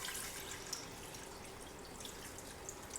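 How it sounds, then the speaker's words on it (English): Two cups of broth pour steadily into a pot for chicken noodle soup, a continuous soft splashing and trickling with small drips, fairly quiet and close, with no voices. "So take your 2 cups of broth or stock, pour it in here."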